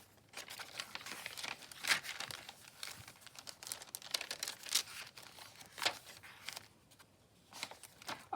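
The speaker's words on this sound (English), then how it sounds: "I just love the crinkly effect, the sounds that it makes and the feel of it." Sheets of tracing paper in a vintage-style junk journal crinkle and rustle in soft irregular bursts, handled close by, with sharper crackles among quieter shuffling.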